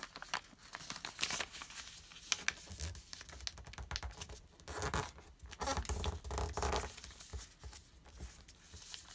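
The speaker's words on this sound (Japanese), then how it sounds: "山折り紙折りのところを出してあげて、パタンと折りたたみます" Origami paper is creased and folded close by, with soft crinkling, rustling and tapping sounds in irregular bursts, quiet and without speech.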